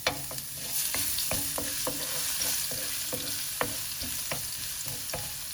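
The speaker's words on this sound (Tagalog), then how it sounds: "Mainit na yung ating mantika. We can put the garlic now." Garlic fries in hot oil for Filipino chicken adobo, a constant soft sizzle with a scattering of sharp clinks and scrapes from stirring, close and without talk.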